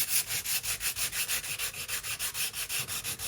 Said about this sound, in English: I put some spackle on it, and now I'm just gonna sand it smooth